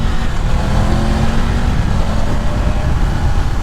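A Triumph Tiger 1200 Rally Explorer motorcycle engine roars loud and close in a steady, rumbling drone while riding, with no distinct gear-change breaks standing out.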